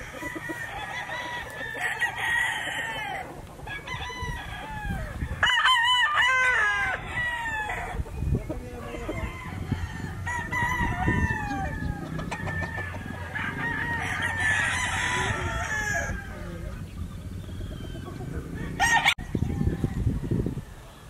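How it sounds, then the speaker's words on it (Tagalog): Gamefowl roosters at a farm crow repeatedly, close and loud, over steady clucking from hens and other chickens, with no pause across the whole stretch. "Napakaganda pong manok at ang gagaling din po nila."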